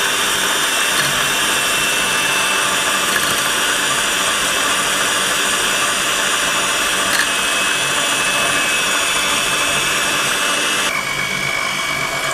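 An electric beater whips a cappuccino coffee mixture, a steady close motor whir with a buzzing edge that runs unbroken throughout.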